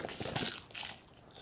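Close, crisp crunching as snacks are chewed, a run of dry crinkly bites over a second and a half with a short pause midway.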